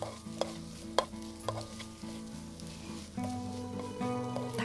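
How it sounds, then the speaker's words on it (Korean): Chicken and onion frying in a pan as they are stirred, with a soft steady sizzle under scattered utensil scrapes and taps, close and fairly quiet. "고기도 잘 섞어주세요"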